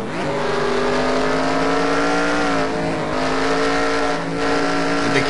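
A NASCAR Xfinity race car's engine revs loud and steady, heard onboard at Watkins Glen as it climbs the carousel, with the pitch rising, dipping and climbing again over several seconds, no talk.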